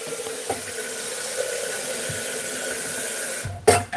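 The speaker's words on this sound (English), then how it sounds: "I'm gonna put the kettle on." Tap water runs steadily into a kettle in a home kitchen, a continuous close hiss filling the whole stretch, with a couple of soft knocks and a brief louder splash near the end.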